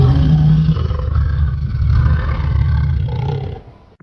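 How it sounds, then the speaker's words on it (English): A synthesized lion roaring, loud and close, a deep rumbling roar with a strong low growl that holds steady, then fades out over the final half second. "Another example, lion roaring."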